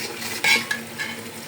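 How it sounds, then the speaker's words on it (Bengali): Spice masala sautéing in a pan, heard as a few short metallic scrapes and clinks of a spoon stirring against the pan over a soft, steady sizzle, with no one talking. "এদিকে মশলাটা কষানি হয়ে গেছে, মশলাটা কষানি হইলে আমি সবজি দিয়ে দিব।"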